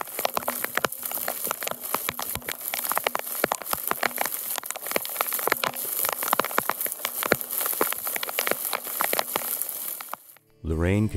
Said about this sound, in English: It is freezing rain.